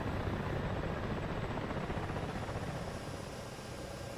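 A helicopter in the DCS flight simulator game flies with a loud, steady rotor roar and a dense, continuous engine wash that fades slightly toward the end, with no voices.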